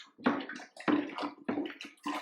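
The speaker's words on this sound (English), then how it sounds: "I want to give this another good stir." Blackstrap molasses is stirred into lukewarm water, giving repeated sloshing swirls in four distinct bursts, close and fairly loud, with brief pauses between strokes.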